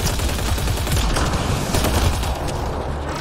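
Gunfire in combat from Mass Effect Andromeda, a dense, continuous volley of shots and impacts that stays loud and steady throughout, with no voices.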